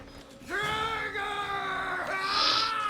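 An enemy in the horror video game Outlast lets out a drawn-out, wavering scream that rises and holds with strong harmonics, loud against a faint background.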